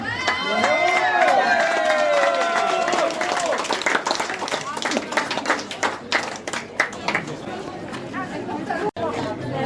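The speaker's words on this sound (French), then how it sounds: "On peut les applaudir très fort." Applause and cheering from an audience at a 50th anniversary celebration, loud and dense at first, then thinning into scattered claps and lively chatter, with a singing or shouting voice rising over the crowd early on.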